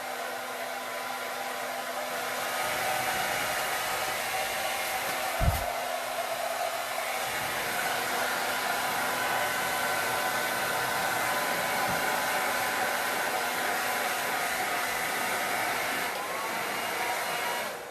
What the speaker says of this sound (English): when I lifted that blow dryer up, I blew all the stuff that was on my desk off